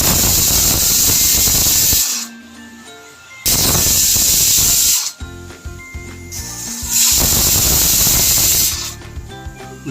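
Loud hissing bursts of steam rush from a pressure cooker whistle in repeated surges, cutting off between releases, with quieter clattering in the pauses.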